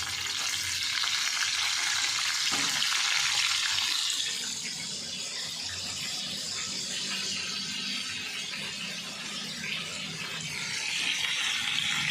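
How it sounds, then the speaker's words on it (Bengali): Potatoes and cauliflower fry together in a pan in a home kitchen, giving a steady close sizzle with no talk. It is louder for the first four seconds, then settles into a softer, continuous crackle. "আলু ফুলকপিগুলো আগে একসাথে ভেজে নেবেন।"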